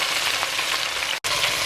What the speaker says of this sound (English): I'm going to put this onion straight in. It's going to sizzle away